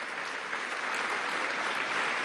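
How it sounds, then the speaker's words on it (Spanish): Members of a national constituent assembly in session applaud military delegates, a broad steady wash of many hands clapping at moderate volume, unbroken and without voices. "le demos un aplauso a los constituyentes militares"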